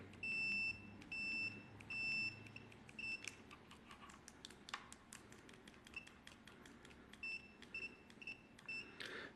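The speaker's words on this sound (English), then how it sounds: "let's see the continuity check." A cheap ADM04 multimeter in continuity mode gives short, high-pitched electronic beeps, several quick bursts with gaps between them, against faint clicking and tapping of the probes.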